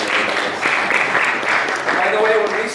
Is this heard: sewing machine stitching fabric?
no